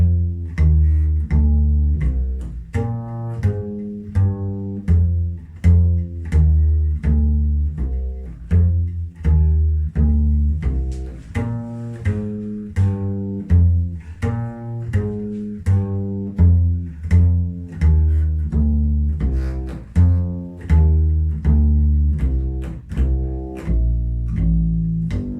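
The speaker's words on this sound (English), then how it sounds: "So when I put this bass line over that form, then the bass line will sound like this." Walking bass line over a 12-bar blues, steady plucked low notes falling in even quarter-note steps, close and loud, playing alone for the whole stretch.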